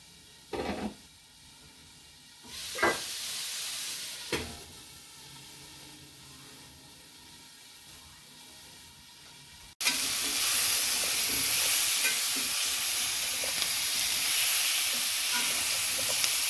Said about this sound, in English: Let those steam just a little bit.